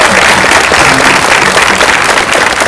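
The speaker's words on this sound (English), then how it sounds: "A very, very big round of applause to Keisha." A live audience at a Q&A session applauds with a loud, dense wash of clapping that holds steady for a few seconds.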